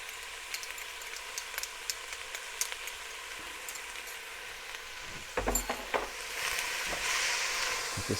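Garlic tipped into a pot of softened vegetables for carrot and coriander soup: a faint background sizzle with light clicks of stirring, then a louder clatter and a stronger hiss of frying.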